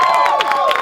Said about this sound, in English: So a round of applause for yourself.